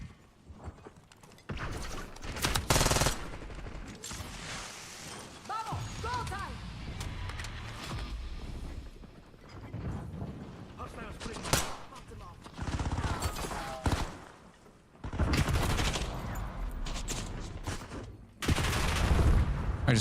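Shotgun blasts in a multiplayer video game, several loud bursts scattered among other gunfire and game noise, with a player talking over them.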